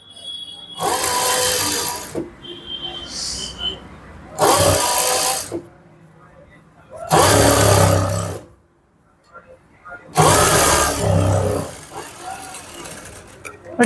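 A sewing machine stitches a puff sleeve at a half-inch margin in four loud, close bursts of rapid whirring, with quieter pauses between them where a voice may be heard.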